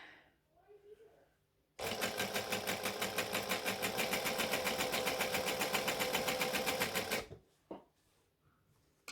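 A sewing machine stitching fabric for a Christmas tree skirt runs in one steady, rapid, pulsing burst of about five seconds, close by, with quiet handling noises before and after.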